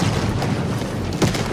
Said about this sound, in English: there was a large explosion